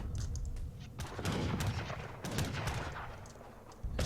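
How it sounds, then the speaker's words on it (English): Organ gun volleys in a real-time strategy battle, rapid overlapping gunshot cracks in dense bursts over a continuous rumble of battlefield noise, fairly loud and busy throughout. "I should have sniped this organ gun"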